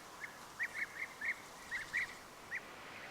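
A European bee-eater gives a string of short rolling, trilled calls, about eight soft purring notes spaced irregularly and heard faint and distant against a quiet background.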